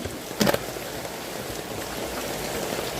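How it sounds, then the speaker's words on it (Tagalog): Heavy rain pours down in a dense, steady hiss that holds for the whole stretch, with a brief knock near the start. "Grabe lakas ng ulan."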